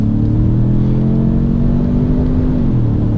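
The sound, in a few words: V6 engine induction noise inside SUV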